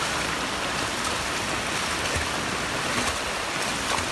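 Heavy rain mixed with hail pours down at a flooding roundabout at Gate 11, a dense, continuous roaring wash of noise, loud and even throughout, with no voices.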